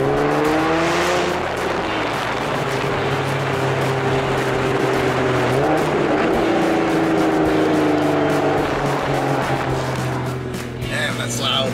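A Nissan 370Z with a Tomei aftermarket exhaust roars and revs with a raspy exhaust note, pitch rising and falling as it accelerates, very close.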